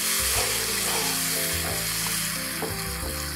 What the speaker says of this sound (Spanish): el vino y dejaré hervir unos 5 minutos así para que se ablande la cebolla